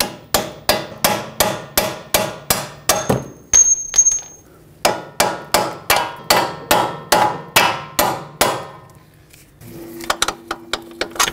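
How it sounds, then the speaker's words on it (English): Loud, steady metallic hammer blows on a punch driving out strut bolts on a Dodge Grand Caravan, about three strikes per second, pausing briefly before resuming with a final few lighter taps. "And now use a hammer and punch them out."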